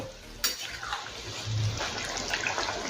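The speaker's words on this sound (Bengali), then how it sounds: "আর একটু জলের প্রয়োজন আছে, তাই এর মধ্যে দেবো গরম জল" Hot water poured into a pan of Bengali mourala fish bati chochhori curry makes a steady rushing splash with a sharp clink near the start and light utensil clatter, close by, with no voices.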